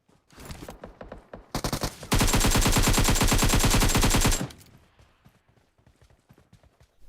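Sustained rapid automatic gunfire roars for a couple of seconds in PUBG Mobile, preceded and followed by scattered single shots and game action sounds.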